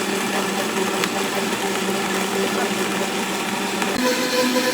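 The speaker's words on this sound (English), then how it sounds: "on low on my Vitamix, but I'm turning it up to almost a 10" Vitamix blender turned up to almost top speed, a loud, steady high whir with a faint tonal hum and a slight pitch shift near the end, running alone without talk.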